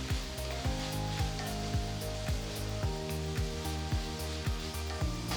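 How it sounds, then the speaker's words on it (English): Chopped onions sauté with finely chopped ginger and green chilies in a hot pan, giving a loud, steady sizzle with regular stirring scrapes and knocks about every half second, close up, with no voices. "Add 2 green chilies finely chopped and continue to saute the onions."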